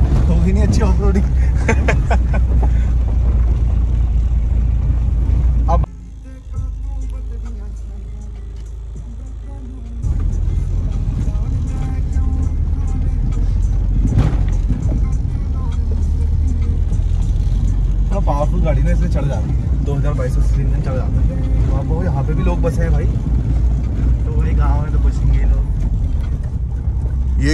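A car grinds along an off-road mountain track in Uttarakhand, its engine and rattling chassis forming a loud, continuous rumble that dips briefly before resuming, with voices talking over it.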